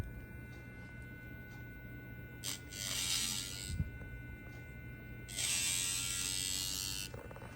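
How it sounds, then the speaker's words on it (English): A Yabife pet nail grinder working on a dog's nails: two bursts of high buzzing grinding, the second longer, heard over a faint motor hum in a quiet room. "Get that grinder on there"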